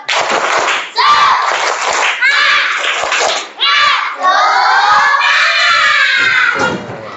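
Children in a classroom chant and shout the tepuk semangat spirit cheer, with loud rhythmic claps punctuating excited high voices, close and energetic throughout.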